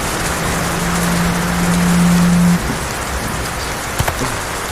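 Light drizzling rain falls steadily, a soft continuous hiss with a faint low tone underneath and a couple of small taps near the end.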